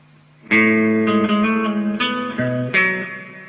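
A short electric guitar riff played alone, a sequence of ringing picked notes and chord changes over a few seconds, clear and close.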